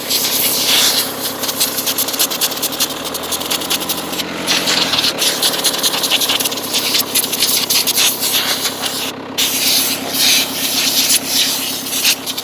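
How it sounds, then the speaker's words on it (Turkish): Compressed air blasted onto dusty filters during post-work cleaning of a machine, a loud continuous hissing rush with a steady engine drone running underneath throughout. "Şimdi filtrelerimiz burada. İçeridekini de çıkardım bu arada. Onlara bir hava vuracağım."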